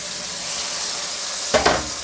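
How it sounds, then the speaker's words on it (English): Tomatoes, green chilli and panch phoron fry in a pan with a loud, steady hiss, broken near the end by a brief burst of sharper crackle and a knock. "Add panch puron, green chilli and chopped tomatoes. Add little bit salt. Cover and cook until tomato is cooked."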